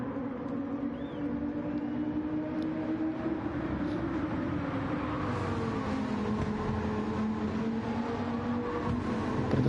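A GT3 race car in a racing video game on the Sardegna circuit drones with a steady engine note whose pitch wavers and shifts as the car slides, alongside other engines and a faint hiss of tyres.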